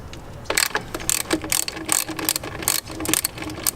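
A ratchet wrench loosens a 10mm bolt on an engine during rear cam cover and inlet tube work, giving loud, close bursts of rapid clicking in several quick strokes with brief pauses between.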